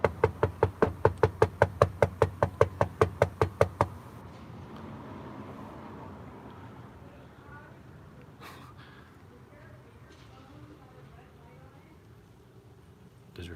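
Rapid hard knocking on a door, around fifteen quick even raps over four seconds, loud and close, followed by a quieter stretch of outdoor background noise in a park setting.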